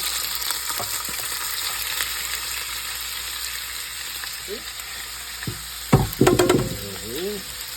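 Shrimp for scampi cook in a hot pan, giving a steady background sizzle with scattered knocks and scrapes of a utensil, then louder clatter and stirring near the end as the pieces are moved around; no speech.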